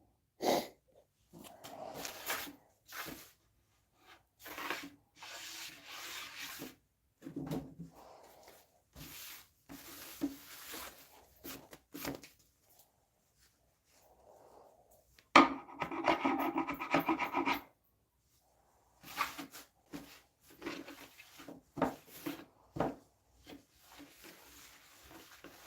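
A cabinet door is sanded before painting in bursts of dry rasping strokes, some short and some sustained, separated by pauses and quiet handling noises.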